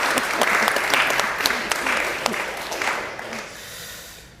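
An audience claps steadily for a speaker at a talk, a loud, dense patter of many hands that holds for several seconds and then thins out toward the end.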